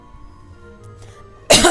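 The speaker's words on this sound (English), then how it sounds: "Oh, I made myself cough." A single sharp cough bursts out near the end, loud and close, after a stretch of quiet low background hum.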